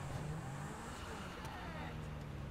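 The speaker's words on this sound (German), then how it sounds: "ich fahre da gerade mit dem Cintura auf der Straße" A Cintura car driving along a street in GTA 5 gives a steady engine drone with road rumble, fairly faint and continuous throughout, with a faint voice in the mix.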